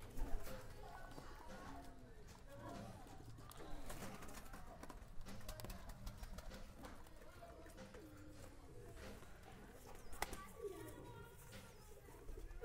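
Pigeons cooing in a coop of red birds, soft low coos repeating through steady background noise, fairly faint, with occasional clicks and rustles and no clear talking.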